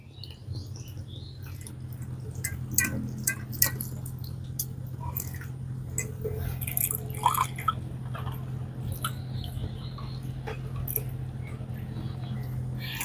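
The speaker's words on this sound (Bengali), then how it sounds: "এবার আমি এর মধ্যে কিছুটা জল দিয়ে ভালো করে চিড়েটাকে ধুয়ে নেব" Flattened rice (chira) washed in a little water, with soft squishy sloshing and scattered drips over a steady low hum; faint and close, with no talking.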